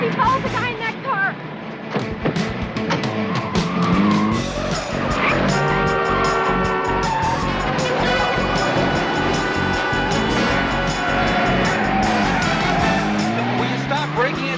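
Car chase in a TV crime drama, with engines roaring and tires squealing and skidding through turns, loud and continuous under tense dialogue and music.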